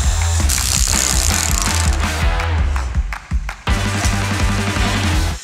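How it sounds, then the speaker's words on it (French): A hammer drill with a 10 mm bit bores into a wall during exterior insulation work, giving a fast, loud rattling hammer that continues with a brief dip before resuming, close by. "il faut réussir à percer le mur jusqu'au fond"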